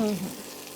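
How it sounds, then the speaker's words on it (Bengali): Spices and boiled mutton frying and being stirred in a pan for a Bengali mutton and cabbage dish, a steady close sizzle with a brief scrape at the start. "যেহেতু মশলাটা ভালো কষেছে তো বেশ ভালো একটা গন্ধ বেরোচ্ছে।"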